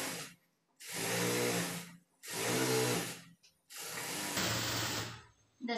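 Sewing machine stitching a seam in a semi-patiala pant, running in four loud bursts of about a second each with short pauses between them, close up and with no talking.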